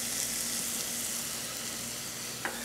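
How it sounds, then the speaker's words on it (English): Shallots fry in bacon fat in a pan with a steady, close sizzle, and a utensil scrapes briefly as they are stirred and broken up. No one speaks. "So we're gonna let these cook down a little in that bacon fat, break them up a little."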